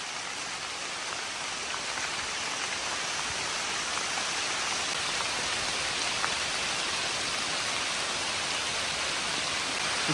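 Steady, heavy rain pouring down in a dense, continuous hiss with scattered drop patter, constant throughout with no voices.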